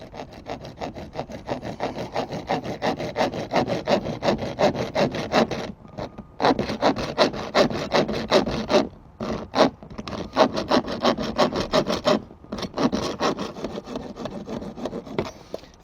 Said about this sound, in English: If you use the hacksaw, it'll be a lot easier. I'm actually using quite a coarse blade here.